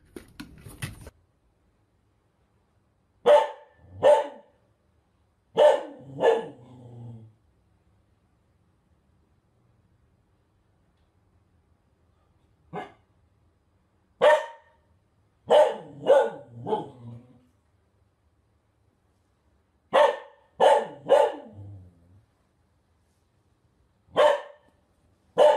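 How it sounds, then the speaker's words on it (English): A dog barks in loud, close bursts, mostly two or three sharp barks at a time with a few trailing growly tails, separated by long quiet gaps. "Levi, no barking."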